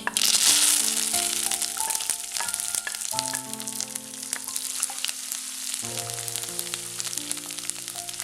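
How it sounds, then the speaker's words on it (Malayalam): Ginger, garlic, green chilli and curry leaves crackle and sizzle in hot oil after mustard seeds, a steady frying hiss with scattered pops, made for a bilimbi pickle, while soft background music plays throughout. "എണ്ണ ചൂടായി കഴിയുമ്പോഴത്തേക്കും 1 ടീസ്പൂൺ കടുക് പൊട്ടിക്കഴിയുമ്പോൾ ഇഞ്ചി, വെളുത്തുള്ളി, പച്ചമുളക്, കറിവേപ്പില അത്ര ഇട്ട് കൊടുക്കാം"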